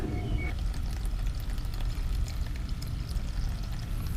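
Gasoline drains from a lawn mower fuel tank through a hose clamped with pliers, a steady close trickle and gurgle that continues without a break and with no talking.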